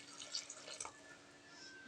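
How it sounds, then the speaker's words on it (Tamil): Hot water pours into a pot of goat leg soup on the stove, a faint, soft splashing trickle with light drips, heard alone. "சுடு தண்ணி ஊற்றிக்க போகிறோம்"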